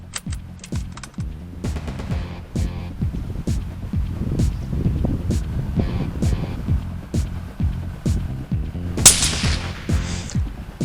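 A 17 HMR rifle fires a series of sharp shots, a dozen or more cracks spaced unevenly over a low steady hum, with one louder, brighter burst near the end.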